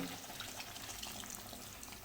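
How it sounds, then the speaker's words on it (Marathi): Hot water poured into a pan of chicken masala for butter chicken, a steady close splashing and bubbling liquid stream, fairly quiet and continuous with no voices. "गरम पाणी घाला"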